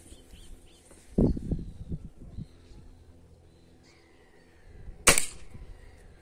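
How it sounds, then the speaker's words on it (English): An air rifle firing a Gamma Pro Hunter pellet outdoors: one sharp crack near the end, preceded by an earlier thump and faint bird calls in the background. "Let's do a follow-up shot with a Gamma Pro Hunter"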